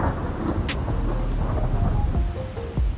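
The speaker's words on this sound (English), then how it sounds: "This could lead to thunder snow in the strongest bands." Thunder rumbles low and heavy amid lake-effect thunder snow, a steady deep roll lasting a few seconds with faint crackling on top, no voices.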